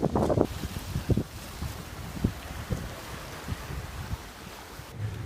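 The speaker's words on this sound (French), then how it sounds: "Vent réel aujourd'hui qui est énorme." Strong wind buffets the microphone in steady gusts, with rushing water and rough waves churning underneath throughout, at sea while crossing the Pacific Ocean.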